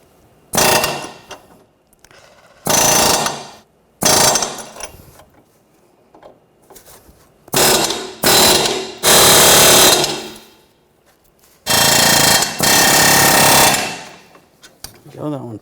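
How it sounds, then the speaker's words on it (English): Front lower ball joint rivets being pressed out of a 2013-2019 Ford Escape control arm, heard as loud, harsh bursts of power-tool hammering in several separate runs with brief quiet gaps, close to the microphone. "And then we're going to push the rivets through."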